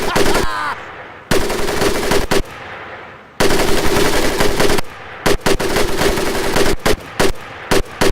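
Loud bursts of automatic weapon fire from the video game Medal of Honor Pacific Assault, coming in long sustained volleys broken by short gaps and a few quick separate bursts.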